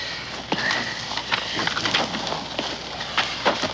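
Hooves clatter in uneven bursts from horses moving close by, with scattered thuds and a steady outdoor background.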